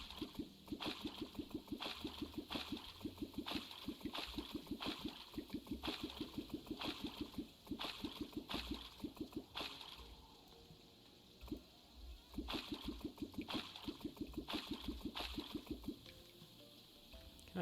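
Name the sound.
water noise around the player in the video game Terraria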